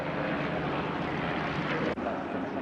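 Vintage propeller trainer aircraft, such as a Fairchild Argus, a Ryan and a Boeing Stearman, fly past at an air force anniversary airshow, giving a loud, steady engine drone that holds throughout with a brief dip near the end.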